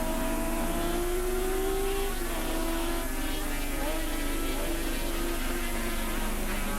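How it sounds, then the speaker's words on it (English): A big four-stroke sidecar racing outfit at Oran Park winds out hard, its loud sustained engine note rising and sweeping over continuous race-track noise with no break. "You can just hear the big four-stroke wind out."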